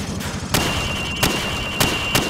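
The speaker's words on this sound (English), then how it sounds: "Now, shoot at the targets while firing from the hip." Rifle shots fired from the hip at targets on a training range in Call of Duty Modern Warfare, four loud sharp bangs spaced unevenly over steady background noise.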